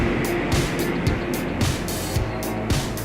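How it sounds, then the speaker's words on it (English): Steady road traffic rushes past outdoors at a bow build site, giving a continuous broadband wash with repeated swells roughly every half second, moderately loud with no talking. "you can hear the road going by"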